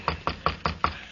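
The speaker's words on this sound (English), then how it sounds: "I'll knock on the door here." Five evenly spaced knocks on a door, crisp and close in a quick steady rhythm, alone without talk.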